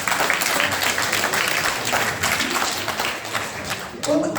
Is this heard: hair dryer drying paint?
no